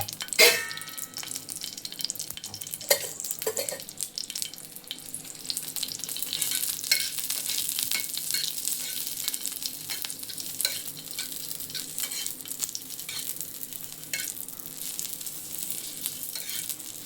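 Chillies frying in a pan, a continuous crackling sizzle broken by repeated scraping and stirring strokes, close and moderately loud, with no talking.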